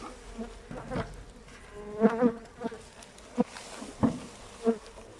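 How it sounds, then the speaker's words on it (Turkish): Honeybees buzz steadily around an open hive during a beekeeper's inspection, with several louder passes as individual bees fly close. "Uçmuyorsa bunlar yeni arılardır. Şimdi birazdan kovana girecekler."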